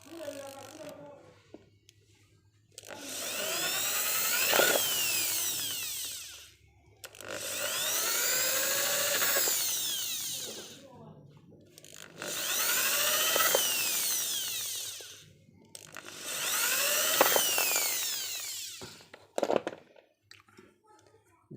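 Power drill boring holes into PE plastic, four long whining bursts with rising and falling pitch separated by short pauses, close and moderately loud, followed by a few handling clicks.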